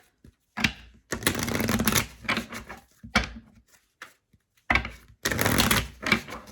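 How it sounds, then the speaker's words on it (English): Oracle cards are shuffled close by in several quick riffling bursts separated by short pauses, each a dense papery flutter. "Let's pull a couple more oracle cards."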